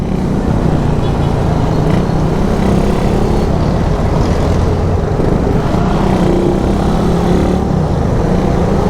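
A Yamaha Aerox scooter rides fast through traffic, its steady engine drone and road rumble loud and continuous throughout.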